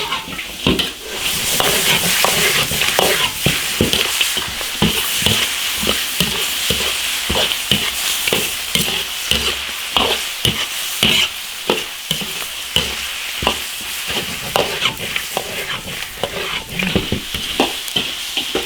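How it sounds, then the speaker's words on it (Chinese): Chicken stir-fried in a big iron wok for big plate chicken with soy sauce, loud continuous sizzling with repeated rhythmic scraping and clanking of the spatula against the metal. "先把水分炒干，然后炒入味。"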